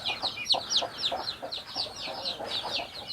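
Chickens clucking repeatedly in a rapid, uneven rhythm, several birds close by, fed by a farmer in rural Thailand; no talk.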